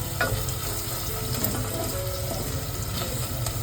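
Garlic paste frying in a clay pot for a clam dish gives a steady, close sizzle with a soft wet crackle that holds evenly throughout, with no voices.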